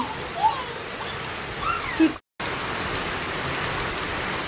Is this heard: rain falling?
yes